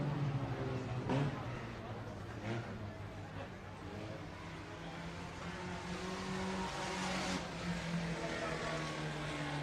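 Race cars roar past at a dirt raceway for a modified and sport compact feature finish, engines droning steadily at a distance as an announcer speaks over the track.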